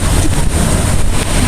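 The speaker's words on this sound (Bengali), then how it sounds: "দেখেন অবস্থা এখানে কিভাবে বৃষ্টি।" Heavy storm rain pours outside in a loud, unbroken rushing hiss with a low rumbling undertone, steady for the whole moment and with nobody speaking.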